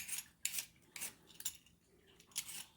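Potatoes being peeled for an Irish beef stew, giving faint, quiet scraping strokes at an uneven pace, about five short bursts with brief pauses between them.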